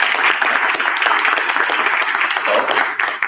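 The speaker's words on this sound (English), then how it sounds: "Okay, a clap, please." Audience clapping at a digital forensics and security symposium, a dense steady patter of many hands filling the whole stretch, fairly loud and close, easing slightly at the very end.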